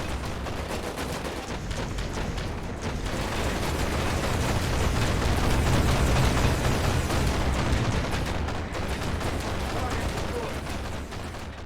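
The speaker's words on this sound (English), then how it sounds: "Oh yeah, look at all those missiles." Missiles firing and exploding in the base-building game Era One, a dense, continuous roar of overlapping blasts and launches, loud and sustained throughout with a swell in the middle, with someone talking over it.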